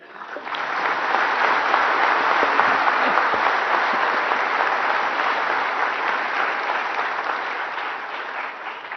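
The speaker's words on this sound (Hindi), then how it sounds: "बच्चों के लिए तो थोड़ा ताली हो जाए।" A large audience at a national energy conservation awards ceremony applauds young painting contestants, a steady, full wash of clapping that swells quickly and holds for about eight seconds.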